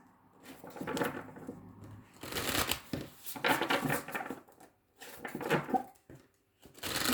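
Riffling and shuffling of tarot cards in several bursts with short pauses between them, close up and fairly quiet.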